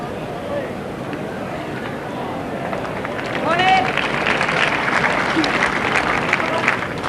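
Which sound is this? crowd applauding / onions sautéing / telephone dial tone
crowd applauding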